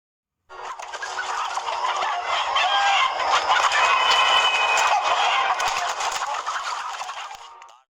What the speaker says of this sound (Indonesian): dikagetkan dengan suara ribut dari kandang ayam.